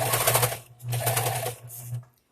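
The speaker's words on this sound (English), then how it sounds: "I have so many layers and so many stitches, so when I see I'm coming near, I'm sewing slower." A domestic sewing machine stitches through thick layers of ribbed knit fabric for baby clothes, running in three steady humming bursts separated by brief pauses and slowing toward the end.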